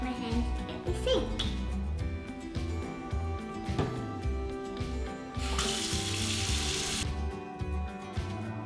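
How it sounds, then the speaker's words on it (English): A kitchen sink tap runs as hands are washed before making homemade pork burgers, giving a steady hiss of water under continuous talk, with a louder rush of flow partway through. "So I'm gonna hop down and wash my hands at the sink."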